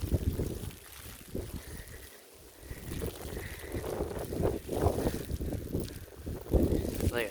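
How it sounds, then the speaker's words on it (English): Blizzard wind in Aberdeen, SD, gusting and buffeting the microphone with a rough, uneven roar of blowing snow, fluctuating in strength throughout. "All that snow's coming and blowing."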